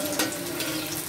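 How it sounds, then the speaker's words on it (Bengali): Radish and carrot pieces fry in oil until crisp. The brief, close, steady sizzle and crackle comes with no voices. "আমরা এখন আস্তে আস্তে এটা মুচমুচে করে ভেজে নেব।"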